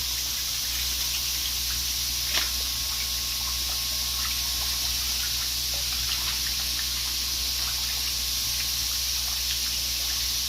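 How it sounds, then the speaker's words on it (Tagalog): Water trickling slowly into a biofloc tilapia pond, a steady, soft, continuous stream with faint splashes over a low, constant background hum. "Unti-unti lang dumadami ang ating tubig."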